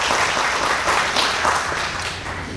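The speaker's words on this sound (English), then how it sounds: "give them a round of applause" An audience at an awards ceremony claps in a dense, sustained round of applause that fills the room, staying loud before easing slightly at the end.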